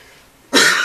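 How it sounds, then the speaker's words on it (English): A single sharp, loud cough bursts out after a short quiet stretch, close to the microphone, from a person getting over a cough or cold. "Excuse me, I'm trying to get over a cough here,"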